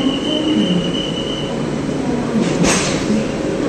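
A WAP7 electric locomotive is coupled to a passenger train at New Delhi railway station, with rumbling rail noise, a high wheel squeal, then a short sharp clank of the coupling near the end.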